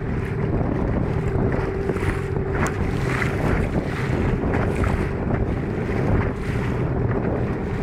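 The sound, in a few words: boat travelling over big waves with wind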